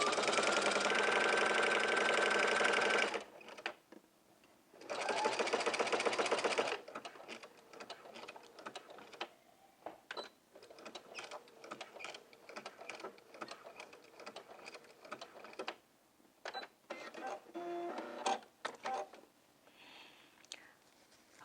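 A sewing machine stitches across the waist and crotch curve of a jumpsuit, running in two sustained bursts of a few seconds each, followed by quieter intermittent clicks and handling sounds.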